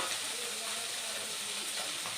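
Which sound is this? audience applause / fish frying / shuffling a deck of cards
fish frying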